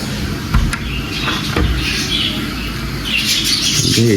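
A parrot gives a few harsh squawks amid background rustling and household noise, with a louder call near the end.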